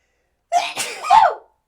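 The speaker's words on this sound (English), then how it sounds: "That was a big sneeze." A single forceful sneeze with a sharp intake and explosive burst, loud and close, with silence on either side.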